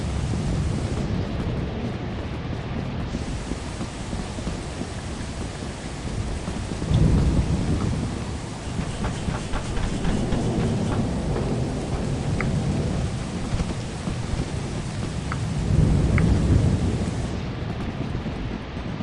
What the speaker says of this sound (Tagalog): Kumukulog eh.